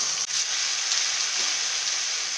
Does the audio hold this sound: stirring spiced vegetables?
yes